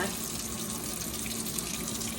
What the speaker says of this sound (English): get them going under hot water and then